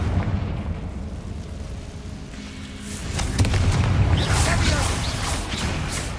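A Confringo spell bursts into a fiery explosion in the video game Hogwarts Legacy, a loud booming blast that swells from about the midpoint and holds, with a voice speaking over the first part.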